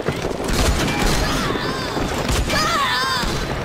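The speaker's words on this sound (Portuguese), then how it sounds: "Eita, tiro mentiroso, Magno." Rapid sniper gunfire bursts in a video game with sharp cracks amid busy in-game noise and a voice talking over it.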